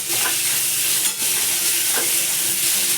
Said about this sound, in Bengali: পেঁয়াজ টমেটোগুলো দিয়ে দিলাম ও একসঙ্গে দিয়ে দিলাম